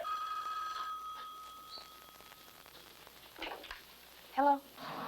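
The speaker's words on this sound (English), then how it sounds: "Janine, get that phone" An old-style telephone bell rings in a quiet interior, with a clear tone in the first second and fainter ringing that trails off, followed by brief rustling and a short burst of sound.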